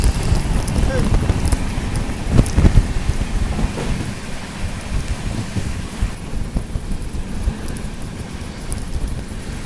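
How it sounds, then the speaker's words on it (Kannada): Heavy rain pours steadily on a train journey through coastal Karnataka between Mangaluru and Goa, a dense, loud, continuous wash of noise with a few heavier bumps near the start. "ಏನು ಮಳೆ ರೀ ಇದು ಗುಡ್ಡ ಒಳಗೆ"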